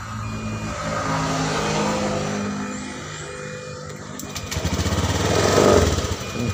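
A Honda Beat FI scooter engine starting and running, a close rough idle with a rattly putter that rises as the throttle is revved near the end.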